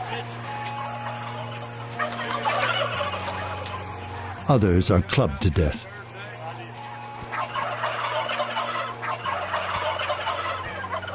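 Turkeys raised for meat on a factory farm let out a short, loud burst of gobbling midway, set between stretches of spoken narration over a low background hum.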